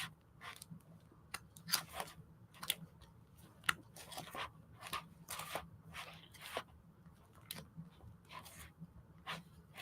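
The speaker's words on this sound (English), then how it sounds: "so you can cut that frame out and pull it out too" Scissors snip a sticker frame out of a sticker-book sheet in a run of short, crisp cuts with uneven spacing, close and fairly quiet, with nobody talking.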